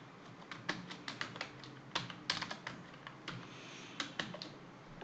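Keys clacking on a computer keyboard while someone types JavaScript code, delivered in quick irregular bursts of sharp clicks with short pauses between them, fairly close and with no voices.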